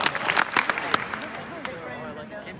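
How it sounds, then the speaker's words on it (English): An audience at a language-teaching conference keynote claps in a loose burst of sharp hand claps at the start, trailing off into murmuring crowd noise and a speaking voice. "If you can hear me, clap twice."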